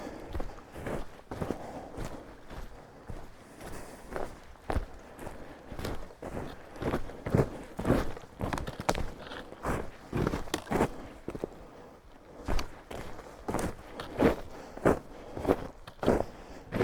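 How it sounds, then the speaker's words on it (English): Footsteps crunch through a crusted layer of snow, a steady series of close, crisp crunches that runs the whole time with brief pauses, no talking. "Just like crunching through a crust layer."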